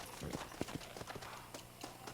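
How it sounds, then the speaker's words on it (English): Horse hooves clip-clop in Red Dead Redemption, a string of soft, fairly quiet footfalls in an uneven walking rhythm over faint background ambience. "There's a horse here."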